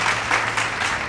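A short burst of crowd applause sound effect, steady clapping at moderate volume with no talk over it.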